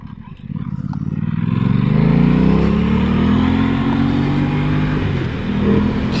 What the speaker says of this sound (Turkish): altında gerçekten çok güçlü bir motosiklet olduğunu hissediyorsun